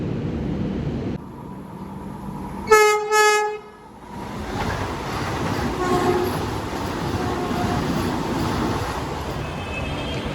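A Vande Bharat Express overtakes on the adjacent track, its horn sounding one loud, short blast close by, over the continuous rushing rumble of the passing train.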